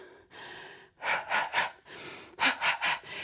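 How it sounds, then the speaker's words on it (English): Rapid, forceful breath-of-fire pranayama breathing in two bursts: a sustained exhale, then three sharp rhythmic puffs, a pause, and three more, close and clear with no talking. "It's called breath of fire in pranayama."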